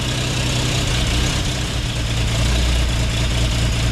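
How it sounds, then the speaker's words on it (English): A custom 1950 Chevy engine idling: a loud, steady low rumble with constant vibration, close up and with no voices. "This thing's idling."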